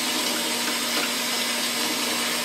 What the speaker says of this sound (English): We'll rinse.